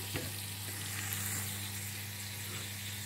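Onions sauté in a pan for fish sarciado, a continuous moderate sizzle with a few brief stirring knocks near the start, over a steady low hum.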